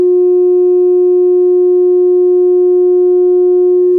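Steady high test tone played through a dual ported subwoofer box, one pure unbroken note held loud for about four seconds before cutting off abruptly.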